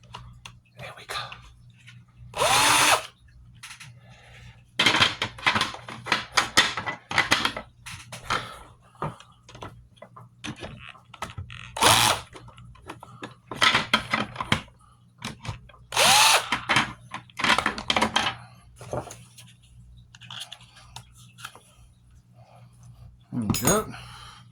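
Intermittent bursts of a power drill whirring at moderate distance, starting and stopping repeatedly over a low steady hum.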